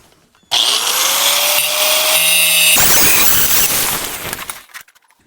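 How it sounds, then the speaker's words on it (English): A power grinder works down a metal pipe handle. It starts abruptly, holds a loud, high whine for several seconds, then winds down with rough grinding noise before stopping. "we're going to grind it down a little bit and clean it up"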